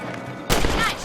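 Rifle shots at rabbits in the Red Dead Redemption video game: one sudden loud blast about halfway through, its ring carrying to the end over faint background ambience.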